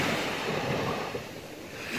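Sea surf washing onto a sandy beach, a continuous loud roar of breaking waves with wind rushing against the microphone.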